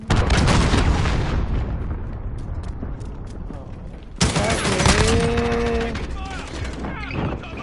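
Dense, loud video game gunfire rattles in rapid bursts with booming impacts, cutting off briefly then resuming, while voices talk underneath.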